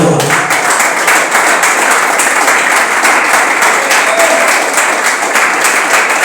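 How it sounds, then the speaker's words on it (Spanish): A church congregation applauds during a service, dense sustained clapping from many hands at an even, loud level, filling the room for several seconds without a break. "Aplausos a todos."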